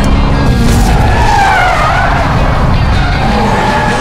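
A Hyundai Ioniq 5 N drifts with loud, sustained tire squeal and skidding over a roaring drivetrain, close and continuous, with the squeal rising and wavering.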